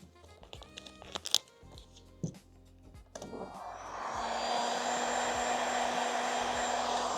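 A heat gun warms vinyl wrap on a Porsche door handle, starting after a few seconds of crinkling handling and then blowing steadily and close up, a continuous rushing hiss with a low hum.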